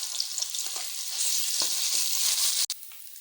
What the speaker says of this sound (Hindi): 1 मिनट तक मैंने लहसुन को भून लिया है